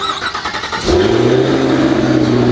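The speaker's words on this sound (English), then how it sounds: "The bread and butter of this car is the motor, guys. It is a Corvette Z06 motor. It is supercharged." A Cadillac Escalade V with a supercharged Corvette Z06 engine revs loudly up close, a choppy idle burbling before the engine surges into a sustained, steady high roar with supercharger whine.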